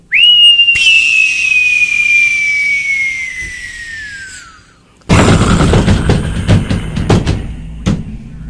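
A human voice imitating a falling bomb: a long loud descending whistle fading over four seconds, then a burst of rough, noisy mouth-made explosion with crackling tails.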